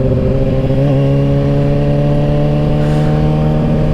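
A Kawasaki Ninja-style sport motorcycle engine runs loud and steady nearby, its harmonic drone holding an even pitch throughout with a slight rise near the start, and no talking.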